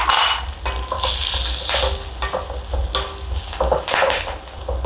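Tempering sizzles loudly in hot oil as curry leaves, dried chilies, hing and fenugreek go in, a dense crackling hiss with sharp spitting bursts throughout, close and continuous.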